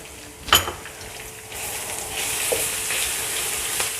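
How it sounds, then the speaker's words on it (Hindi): Oil sizzling steadily as garlic and 6-7 whole chillies fry for a tempering for sarson ka saag, with a sharp clatter near the start and the hiss swelling louder partway through. "बस इन्हीं 2 चीज़ों का हमने तड़का लगाना है"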